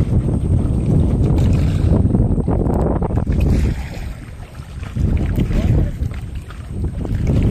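Rowboat rowed by hand on the Garal river in stormy weather, a loud, continuous rush of water and wind buffeting close to the microphone, with no clear individual oar strokes standing out.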